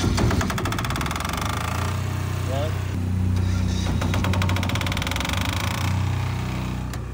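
A Philking 10000stra diesel generator runs with a loud, steady, throbbing drone close by, with a voice talking over the engine noise.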